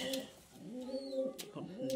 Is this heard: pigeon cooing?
yes